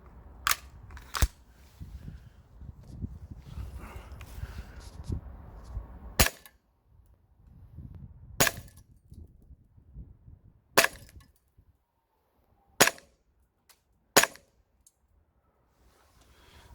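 A Tokyo Marui FN Five-seven airsoft pistol on green gas fires 0.2 g BBs through a chronograph: about seven sharp, close, loud cracks at uneven intervals, with quiet handling noise between them.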